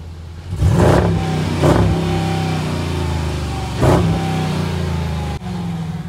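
A 2022 Dodge Durango SUV engine revs sharply three times, each rising roar dropping back to a steady idle between bursts; loud and close, no talking.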